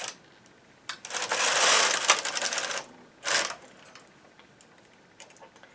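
Knitting machine carriage sliding across the needle bed on a tension 9 pick-up row for a neckband, a loud clattering sweep of about two seconds followed by a shorter second pass, then quiet ticks.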